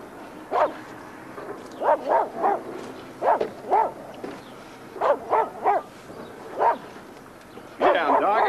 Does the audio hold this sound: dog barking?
yes